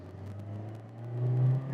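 Engine note of a 2022 Daihatsu Sigra R manual car rising as it accelerates, a steady low drone climbing in pitch toward the end, heard from inside the cabin with no talk.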